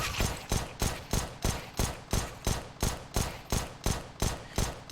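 Pistol fire in a first-person shooter during a hack-versus-hack test: about a dozen sharp, evenly spaced shots in a fast steady rhythm, loud and close, with no talking.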